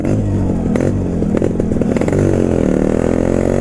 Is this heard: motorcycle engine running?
yes